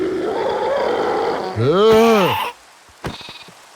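A goat-like mob creature in modded Minecraft lets out a wavering, bleating cry that rises and falls in pitch, loud and close, following a voice talking, with a short groan after it.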